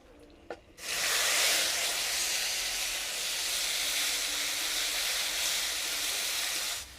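Bay leaves, dry red chillies, whole spices and onion paste hit hot oil, setting off a loud, steady hissing sizzle that starts abruptly and stays strong and even close by.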